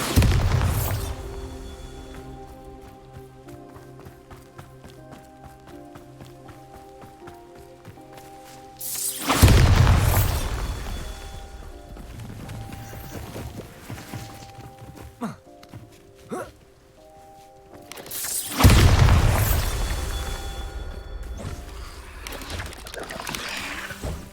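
Bombarda spell explosions in the Hogwarts Legacy video game, two heavy booming blasts about ten seconds apart, each with a roaring decaying tail over quieter game ambience and music.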